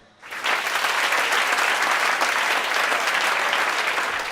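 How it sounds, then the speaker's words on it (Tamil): An audience at a Tamil Diwali stage program bursts into sustained, dense applause that rises within half a second and stays loud and steady throughout, with no voices over it. "எங்களை எல்லாம் கைத்தட்டி ஆரவாரப்படுத்திக் கொண்டிருக்கும்"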